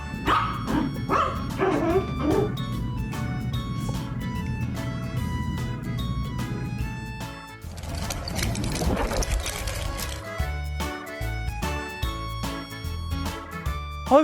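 A puppy yaps and barks in repeated short, high bursts over loud background music, with a busy stretch of noise midway through the clip.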